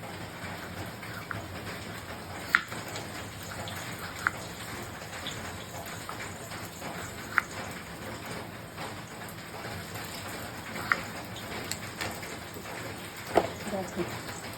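Light rain patters steadily outside, a soft continuous wash with a few scattered sharper drips, heard from indoors at a moderate distance.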